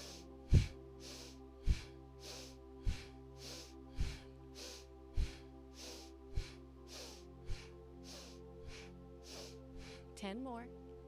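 Rhythmic, forceful nasal breaths during a guided breathwork session, sharp sniffing inhales repeating roughly once a second in a steady run, close and fairly loud over a low sustained background drone.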